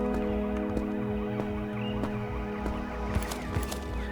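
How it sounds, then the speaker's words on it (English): An emergency vehicle siren wails in the video game Road to Vostok, a loud rising and falling electronic tone over a low rumble with sharp knocks, persisting throughout with no talk. "Is that the sound of emergency services in Finland?"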